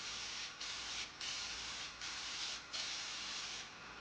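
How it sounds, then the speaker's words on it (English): Raptor liner undercoating sprayed into the rear wheel well of a VW bus, a loud hissing spray in several bursts of roughly half a second to a second, separated by brief pauses, close to the listener. "Here I was just spraying one of the wheel wells in the back."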